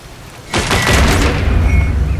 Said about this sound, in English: That causes some sort of explosion and that trapdoor opens.